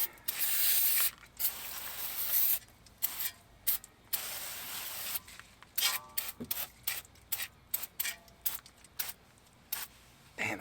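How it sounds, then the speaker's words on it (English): Repeated short hisses of aerosol brake cleaner sprayed onto a 2019 BMW 330i's front brake, a long burst first and then several quick bursts in a row, close by with no talking. "Spray down that brake."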